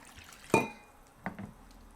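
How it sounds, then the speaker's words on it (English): Warm water poured into a bowl of bread dough ingredients for Moroccan granary bread, heard as a short splash-like pour followed by a second, softer burst of liquid a moment later, close and fairly quiet. "In there I will put roughly about 100 ml of warm water."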